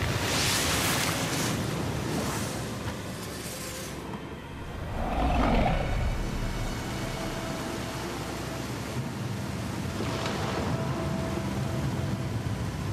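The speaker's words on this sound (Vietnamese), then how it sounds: "Sư thúc nghe lầm rồi, đó là tiếng sóng biển." Sea waves roll and wash in a continuous broadband roar with swelling surges, blended with wind-like rushing; one louder wave crests midway, heard alone without talk.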